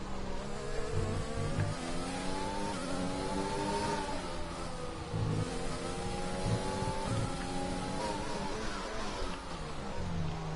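Formula 1 race car engines in the F1 2020 game, a continuous high-revving whine that climbs and drops through gear changes, with a second car's engine layered close by, no voices.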